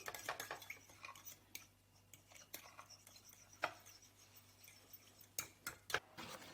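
A spoon stirs yeast into milk in a bowl, giving faint scraping and light clinks of utensil on dish, close and quiet, with a few sharper taps.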